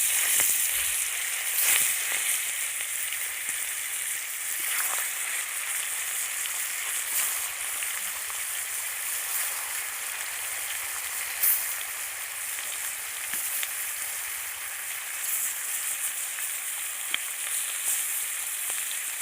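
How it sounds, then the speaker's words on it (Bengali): Steady hissing sizzle of rupchanda (pomfret) fish frying in oil in a pan, quiet and continuous with occasional louder crackles and pops. "মাছগুলোকে ভেজে নেব"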